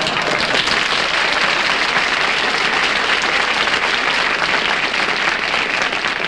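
Studio audience at a television variety show bursts into loud, dense applause, a steady unbroken roar of many hands clapping from start to finish with no talk.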